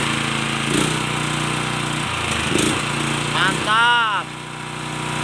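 A black GX270 9HP gasoline engine running steadily and loudly close by on test, with a constant droning hum throughout; people talk over it and a voice is heard briefly near the end.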